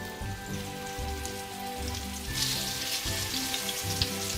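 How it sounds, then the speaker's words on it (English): Beef cheeks searing in grapeseed oil in a pot give off a steady, close crackling sizzle that swells slightly partway through, with no talking. "And then we'll add our beef cheeks now"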